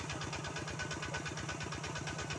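An engine-driven water pump runs steadily while pumping water into a rice field, giving a low, even, throbbing drone with a regular pulsing rhythm, heard from a moderate distance.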